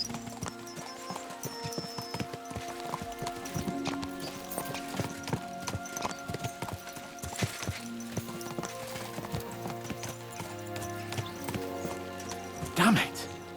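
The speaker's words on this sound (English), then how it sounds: "Let's really spur these horses on, eh?" Horse hooves clip-clopping in the medieval video game Kingdom Come: Deliverance II, a quiet, steady trotting rhythm behind music, with a brief louder whinny or snort near the end.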